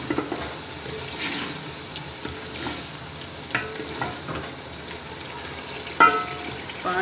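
Roasted mutton is stirred and fried in masala for lobia gosht, with a soft, steady sizzle and repeated scraping strokes in the pan.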